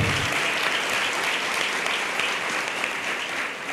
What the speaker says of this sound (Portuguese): Você pode aplaudir a Jesus pela vida dele?